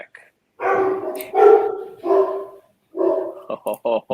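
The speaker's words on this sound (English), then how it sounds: "That sounded like a pretty big dog." A big dog barks loudly and close, several drawn-out deep barks followed by a quick run of short ones, some overlapping with people talking.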